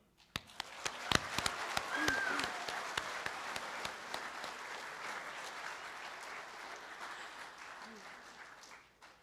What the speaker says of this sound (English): can we just get a massive round of applause for our perseverance despite COVID?